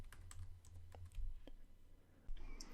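Code typed on a computer keyboard while building a WordPress theme: quick, uneven clusters of soft key taps and clicks, close by and quiet, with a few louder thumps and no speech.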